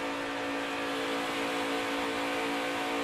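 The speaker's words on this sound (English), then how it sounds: "You can hear him, Vince, barely out of the gas through the corner there, even though he's in traffic." A NASCAR Camping World Truck Series race truck holds nearly full throttle through a corner at Las Vegas while running in traffic, giving a loud, steady, sustained engine drone with no lift.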